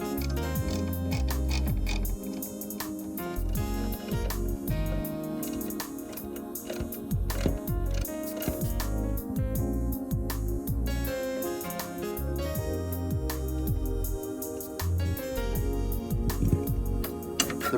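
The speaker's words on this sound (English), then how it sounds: "Now remove the 2 screws on the sides of the bracket using a 1/4-inch socket." Ratchet with a 1/4-inch socket backing screws out of a grille bracket on a 1969 Plymouth Barracuda, rapid clicking pawl bursts in repeated strokes, close and steady.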